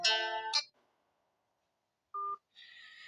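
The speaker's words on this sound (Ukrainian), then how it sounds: "Так опять за мене знову дзвонить." Phone ringtone of an incoming call during Roblox play, short electronic melodic tones in two bursts separated by silence, fairly quiet and clean with no talking over it.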